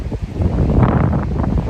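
Gusty wind blows outdoors at a backyard chicken run, a steady low buffeting roar hitting the microphone with swells and dips throughout.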